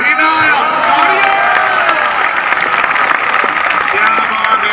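Audience applause and cheering ring out at a live event, a dense steady clapping with crowd shouts mixed in, near and loud for several seconds.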